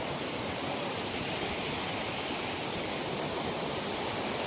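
Water rushing down a hillside, a steady broadband hiss and roar like a small waterfall or stream, even and unbroken for the whole stretch, with no talking.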